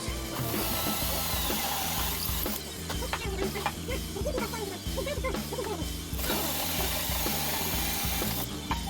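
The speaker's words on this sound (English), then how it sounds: "keep the drill nice and square while I drill the holes for the dowel" A power drill whirs steadily in bursts close by, drilling dowel holes in the underside of an ash desktop, with brief pauses and clicks as the bit is repositioned, over a constant background hum.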